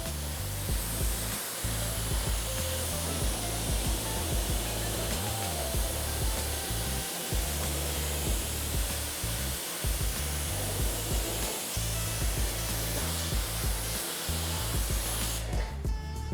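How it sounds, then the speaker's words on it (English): A pressure washer rinsing snow foam off a car sprays continuously for a long stretch, a loud steady hiss of water with rhythmic dips as the jet sweeps across the surface. "Let's spray it off."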